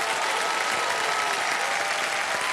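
Studio audience applause on the KBC quiz show set, a dense, steady wash of clapping that fills the whole moment with no break and no voices.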